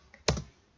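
A single short keystroke on a computer keyboard while entering a spreadsheet formula in Microsoft Excel, a soft close click in otherwise quiet surroundings.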